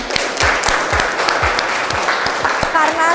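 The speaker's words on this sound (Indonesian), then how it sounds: "kita beri aplaus dulu bagi kita semua" Applause closing a teaching session, rhythmic clapping that runs steadily for a few seconds with talking over it.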